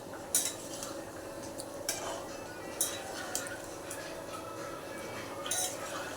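A spoon scrapes and clinks against a cooking pot as chicken simmering in tea liquor is stirred up from the bottom, giving a few sharp metallic taps over a steady low bubbling background, with no talking.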